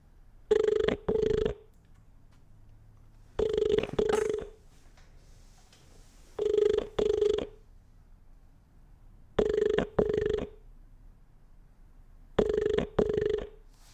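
A phone call ringing tone sounds five times at even intervals, each a double ring followed by a pause, clear and alone.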